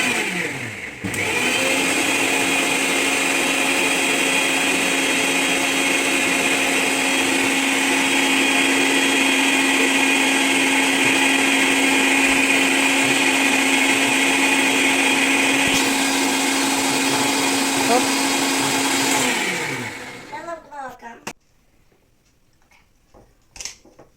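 A mixer grinder blending a mixture runs loud and steady for about eighteen seconds with a constant motor whine, then winds down and stops, leaving a few faint clatters and knocks.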